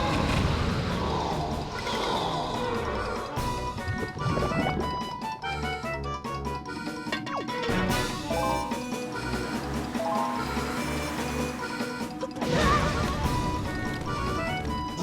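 Quirky, wacky boss battle music from The Legend of Zelda: The Wind Waker HD, the Jalhalla fight, playing loud and continuous with layered melodic parts and percussive hits throughout, no talking over it.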